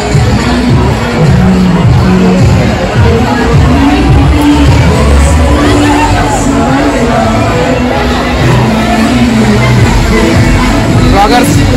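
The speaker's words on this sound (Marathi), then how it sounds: "भयानक गर्दी आहे भयानक" A huge, dense crowd fills Manthan resort with constant loud babble, shouts and occasional whoops, a steady wall of noise throughout.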